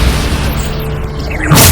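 A Bombarda explosion spell in Hogwarts Legacy builds through a rumbling rush and ends in a loud, sharp boom.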